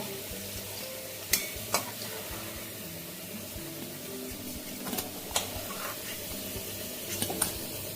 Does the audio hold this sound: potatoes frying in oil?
yes